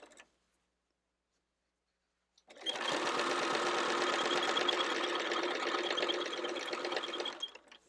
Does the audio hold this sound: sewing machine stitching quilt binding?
yes